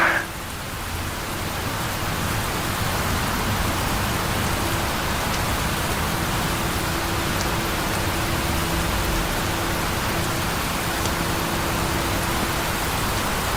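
Steady, heavy rain hisses continuously, dense and close, with no voices over it.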